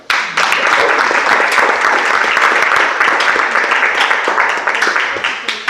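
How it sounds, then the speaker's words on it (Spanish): Loud, sustained applause from a church congregation fills the whole stretch, dense clapping starting abruptly and holding steady without a break. "Dale un aplauso a Dios."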